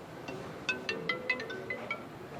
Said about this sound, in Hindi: अरे यार फ़ोन आ रहा है यार।